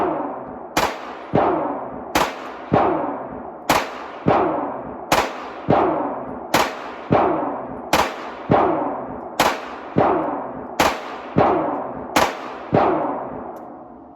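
A Glock 19 pistol with a red dot sight fires a long string of evenly spaced single shots, each a sharp loud crack with a short ringing tail, outdoors at a range.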